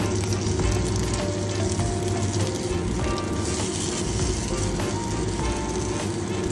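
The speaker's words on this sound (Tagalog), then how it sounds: "So ngayon, ipa-fry po natin siya." Taro cake frying in hot oil, a steady dense sizzle and crackle that holds close and loud for the whole stretch with no voices over it.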